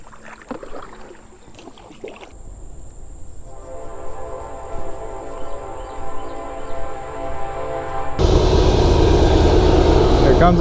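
A train rolls past near a shallow river by an old abandoned bridge, a steady low rumble building over several seconds and swelling loud near the end, with a high whine running through and some faint talk at the start.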